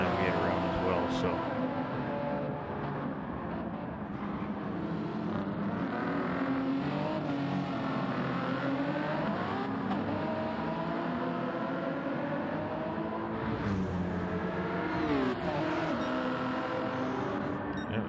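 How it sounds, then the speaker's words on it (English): GT3 race cars roar around a track in a racing video game, engines revving up and down through gear changes with overlapping whines from several cars, loud and continuous under a commentator's talk. "Egon's got some GT3 cars up ahead of him here"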